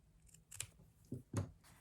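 Scissors snip a small cross into fabric for a Christmas angel ornament, with a few quiet, close snips and two sharper cuts near the end, heard alone.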